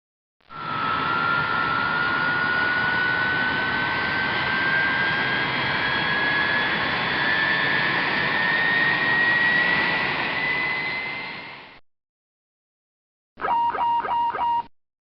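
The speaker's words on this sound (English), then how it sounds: "Both engines have been started in preparation for departure" A Boeing 777's jet engines whine loudly and steadily with a rising tone for about eleven seconds, cut off, then a short tonal electronic alert sounds.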